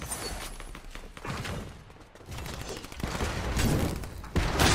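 Fortnite gunfire crackles in dense, rapid bursts, loud and continuous through most of the stretch with a brief lull in the middle, heavy thumps and mechanical clatter mixed in.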